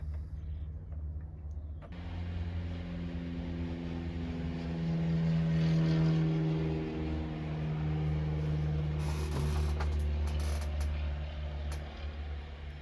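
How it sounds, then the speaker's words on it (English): A steady low droning roar of airplanes flying overhead, swelling gently and fading over several seconds, heard indoors as a continuous rumble with no talking. "Stupid planes."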